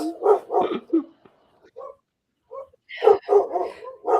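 Dogs bark in bursts at a home during a live online chat, sharp close barks and yips clustered at the start and again near the end with a quiet gap between.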